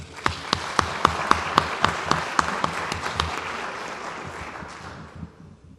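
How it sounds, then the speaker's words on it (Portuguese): An audience at a gathering at a Brazilian Embrapa research centre claps, distinct sharp claps at first merging into a burst of applause that fades out over several seconds. "deve dar uma salva de palmas"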